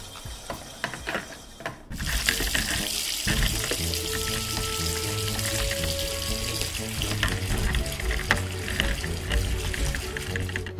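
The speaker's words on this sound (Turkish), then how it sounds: "Bulaşıkları hemen yıkamalıyım." In a video game, running water pours steadily into a sink while dishes are washed, with clattering and splashing, continuous and close after a brief quieter start.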